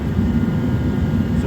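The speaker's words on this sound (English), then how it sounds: "Got the old jet heater going." A jet heater runs in a chilly western Kentucky workshop, giving off a loud, steady, close-up roar with no breaks for the whole short moment.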